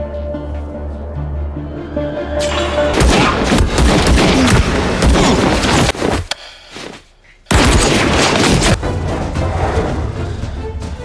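Dense bursts of automatic gunfire in a military drama scene, loud and close, with a brief lull before the shooting resumes.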